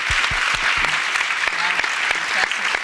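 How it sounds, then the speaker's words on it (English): Audience applause at a women's health event fills the room: steady, dense clapping from many hands throughout, with a few faint voices beneath. "Let's give them all a round of applause."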